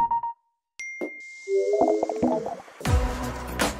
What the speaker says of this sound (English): We've also created a new suite of sounds that are familiar to the Mac, but remastered and more refined.